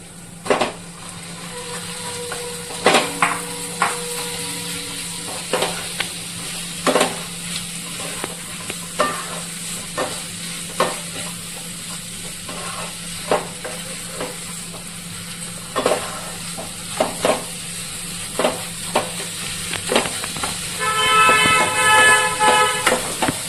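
Washed chicken goes into a hot pan for chicken chop and sizzles steadily. Spoon scrapes and clinks recur throughout, and near the end a vehicle horn toots several times in the distance.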